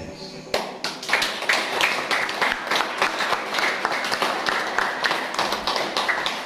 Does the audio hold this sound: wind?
no